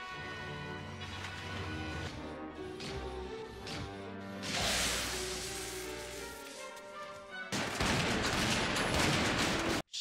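Shotgun fire in an animated series comes as several sharp bursts over a music score, with a dense stretch of blasts near the end.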